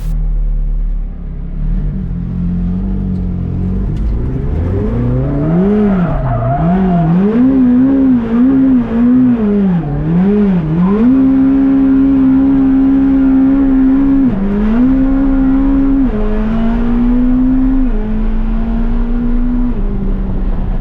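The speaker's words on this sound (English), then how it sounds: "I do this perfect drift, slide next to the cars, perfectly controlled and balanced." A McLaren Senna drifts in a slide beside parked cars, its engine loud and close, droning and swooping up and down in pitch before holding steadier revs, with tire noise underneath.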